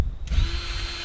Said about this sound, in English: Drill through, run your bolt in there, and just do each of the center ones first.